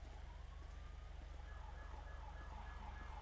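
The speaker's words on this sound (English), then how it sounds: "I hear more sirens" Police sirens sound at a distance during a video game police roleplay, a steady wailing tone rising and falling over a constant low engine-like drone, with no talk.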